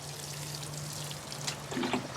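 Water sprayed over the leaves of a tomato plant as a foliar feed, a steady soft hiss running throughout with a few brief splashy bursts near the end, close by and moderately loud, no voices.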